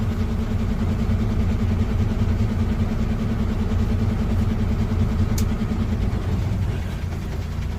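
Parked truck engine left running at idle, a steady low diesel-like drone holding an even level throughout, close and continuous, with no talk over it.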